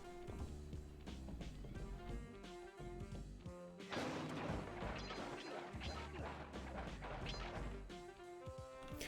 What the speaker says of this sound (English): I take a little longer smashing stuff